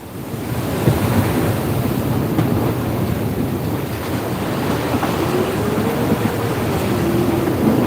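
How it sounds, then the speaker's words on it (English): Steady roaring wind and rushing waves surround a sailboat at sea on the Banda Sea, loud continuous wash with gusty wind noise buffeting the microphone, no voices. "Oh, here comes the wind."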